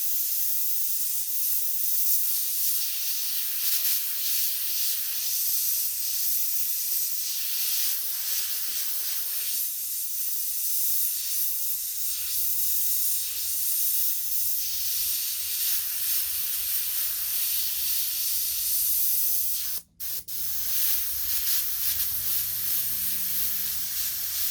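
Continuous hissing spray of water from a spray bottle onto watercolor-painted fabric, steady and close for most of the stretch, with one brief pause near the end.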